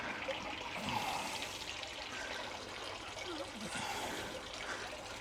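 Tap water pours and splashes steadily out of a container for several seconds, a continuous trickling rush at moderate volume with no voices.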